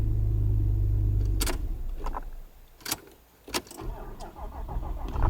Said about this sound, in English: Now we got to turn the headlights off and start the engine 3 times